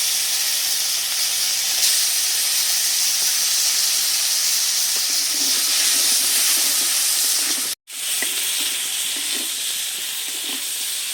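Prawns with salt and turmeric fry in oil in a wok, giving a loud, steady hissing sizzle with faint stirring knocks, briefly dropping out for a moment before continuing.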